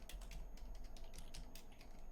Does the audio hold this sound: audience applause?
no